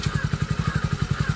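Motorcycle engine chugging close by in a quick, even pulsing rhythm, loud and steady during a short ride.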